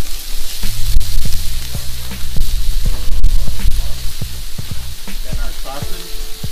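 Shrimp cooking on high in the middle of a Blackstone griddle, a loud close sizzle and spatter with spatula scrapes and taps throughout.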